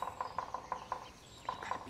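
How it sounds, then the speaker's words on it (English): A woodpecker in Andorra taps in a quick series of light knocks, pauses, then taps twice more, fairly faint against a quiet outdoor background. "A woodpecker, always busy."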